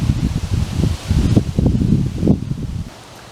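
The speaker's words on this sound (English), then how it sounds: "ignoring the wind, which is going to make the audio crappy" Wind buffeting an outdoor microphone, producing loud, uneven low rumbling and rustling gusts that rise and fall for a few seconds with no speech.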